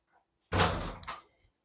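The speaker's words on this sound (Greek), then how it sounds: "Να κλείσω και την πόρτα γιατί τα παιδιά κάνουν το χαμό." A household door is pushed shut in a home kitchen during crepe-making: a single close, fairly loud thud with a short rattling tail, then quiet.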